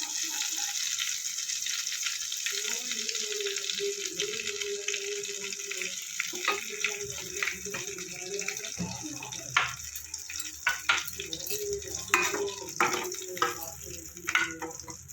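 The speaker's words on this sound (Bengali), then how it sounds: "কড়াইতে দেবো একটু সরষের তেল।" Mustard oil poured into a hot wok, a soft steady sizzle that grows busier with sharp pops and crackles toward the end, fairly quiet and close.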